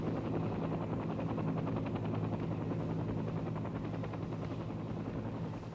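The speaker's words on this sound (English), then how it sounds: "over she goes in maneuvers over Long Island Sound" A Sikorsky CH-53 helicopter maneuvering over Long Island Sound, its rotor chop a loud, continuous rapid thudding with a heavy engine roar, steady throughout and without voices.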